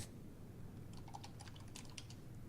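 A computer keyboard typed on during an online card game session with guests, with a short burst of faint, quick key clicks over steady background hiss.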